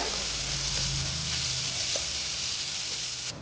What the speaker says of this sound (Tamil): சேர்த்துட்டு வெங்காயத்தை நல்லா வதக்கிக்கோங்க